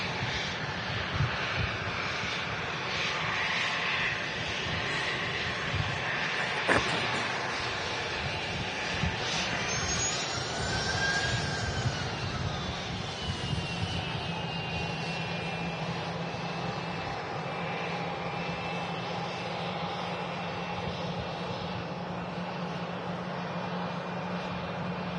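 Embraer 145 airliner landing at Manchester Airport, a steady jet engine roar with whining turbine tones and rumble, heard from a distance at moderate level without talk.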